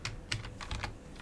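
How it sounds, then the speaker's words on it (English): Several quick keystrokes on a computer keyboard while entering a rotation value in Revit, light clicks spread over about a second, fairly quiet and close with no talking. "you can just type in what you want"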